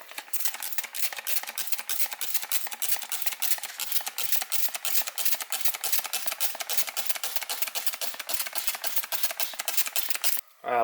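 Steady hissing spray of a likely pressure washer rinsing cleaner off a surface, close and continuous with rapid sputtering pulses for about ten seconds before a short break and restart.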